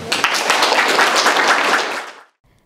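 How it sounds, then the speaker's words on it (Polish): A group bursts into loud, dense applause for the children who painted cat portraits, the clapping sustained for about two seconds before quickly dying away to silence. "ogromne brawa dla wszystkich"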